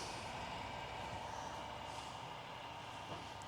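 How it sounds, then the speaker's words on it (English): A trash truck collects limbs and leaves from beside a road, its engine and machinery making a steady, muffled rumbling hiss heard from some distance outside. "it sounds like the trash truck's out there picking up limbs and leaves out from beside the road."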